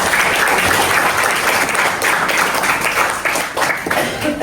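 A classroom of university students applauds a classmate during a teaching session, dense lively clapping close by, steady throughout the few seconds.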